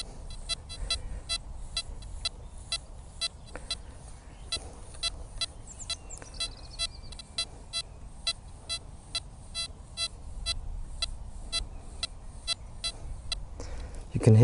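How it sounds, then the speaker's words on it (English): An XP Deus metal detector gives a deep target signal: a run of short, evenly spaced electronic beeps, slightly choppy and broken, repeating steadily over faint background rumble. "The deep signals tend to be a little bit irony, so I'm just going to let you hear what it sounds like"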